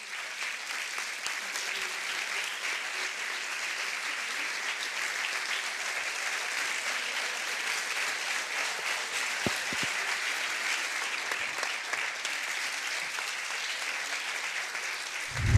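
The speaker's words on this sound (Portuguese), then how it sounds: "Uma salva de palmas para eles" Dense, steady applause from a seated audience at a talk event, a continuous wash of clapping that holds at an even level for the whole stretch with no voices over it.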